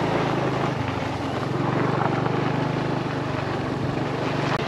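A motorbike engine runs while riding near Hampi, India, giving a steady, close, buzzing drone with a low pulsing note that never lets up over the wind-filled background.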